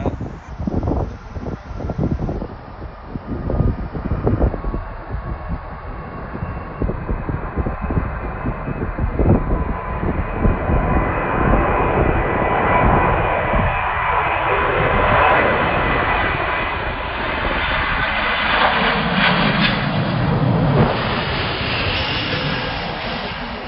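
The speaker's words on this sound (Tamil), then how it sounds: "2 ஃப்ளைட் வந்து வந்துட்டு இருக்கு பாருங்க" Airplanes landing at Heathrow Airport, a loud, sustained jet roar that builds and sweeps past nearby, with wind buffeting the microphone and no talking.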